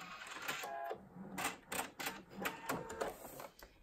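Sewing machine stitching quilt binding off the edge of a 120-degree angle, with short quiet bursts of rapid needle chatter separated by brief pauses.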